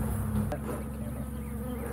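Bees buzz steadily nearby, a continuous droning hum with no voices.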